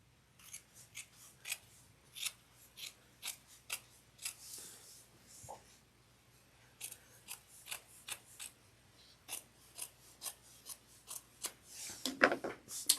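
Scissors trimming sewn tote bag fabric, giving a long run of crisp, close snips in steady rhythm that grow quicker and louder toward the end.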